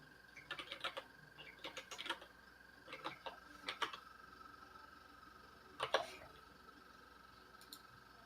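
Quiet typing on a computer keyboard comes in short bursts of crisp key clicks separated by brief pauses, close and alone in a hushed room.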